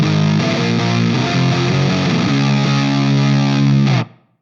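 Ibanez AS7328 baritone guitar on the neck pickup, heavily distorted, playing a thick, loud run of chords and notes that settles into a sustained ringing chord before cutting off sharply.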